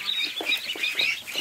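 Ducks scurrying across a floor while quacking, a quick series of about five short nasal calls in an uneven rhythm, close by, with no voices.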